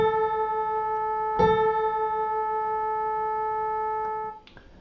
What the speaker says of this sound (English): what you're hearing are beats caused by the two